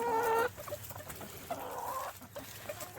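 Backyard flock of chickens clucking as they peck at a treat of popcorn, pears and tortilla chips, with several bursts of clucking from nearby birds close to the mic and softer farmyard chatter in between.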